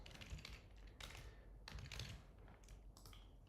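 Rapid, close computer-keyboard typing with bursts of clicking keystrokes and brief pauses, quiet and alone.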